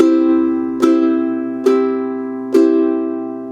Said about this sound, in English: feel free just to play the song on the beat